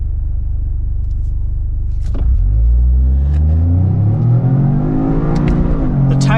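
A 2025 Toyota GR Corolla with automatic transmission lapping a track, its engine dropping to a deep rumble then climbing in a loud, rising rev with shift breaks, close and continuous.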